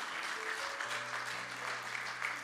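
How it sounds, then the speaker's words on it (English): A church congregation applauding during a bilingual Spanish-English sermon, a short burst of continuous clapping heard alone. "How many of you give a round of applause to the Lord?"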